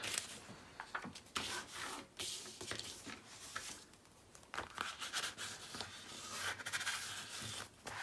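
Graphic 45 Tropical Travelogue paper is burnished onto a 7 x 7 scrapbook page with faint, close rubbing and scratchy strokes, irregular and soft, with small crinkling touches between them.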